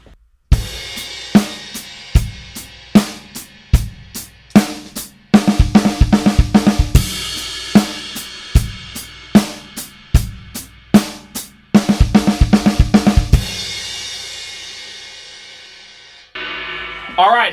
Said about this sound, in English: it's a double kick into the crash when we come out of